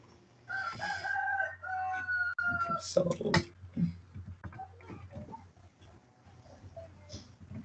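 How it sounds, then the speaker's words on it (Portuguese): A rooster crows in the afternoon outside a nearby house, heard moderately loud at mid-distance, with a person speaking over part of the call. "Esse galo perto da sua casa aí tá meio preguiçoso. 2 horas da tarde cantando."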